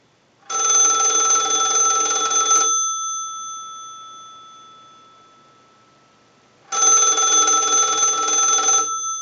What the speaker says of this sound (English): use the analyzer and send a ring cycle, so we'll start that